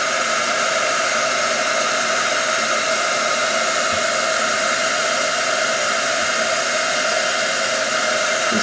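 A heat tool blasts continuously and loudly at close range while heating embossing powder on a watercolor stamped image, a steady, unbroken roaring hiss with no pauses.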